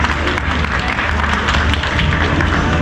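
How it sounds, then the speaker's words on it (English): Steady, loud applause from an audience at a store opening event, dense continuous clapping filling the space with a low rumble of crowd noise underneath and no single voice standing out. "Please give her a round of applause"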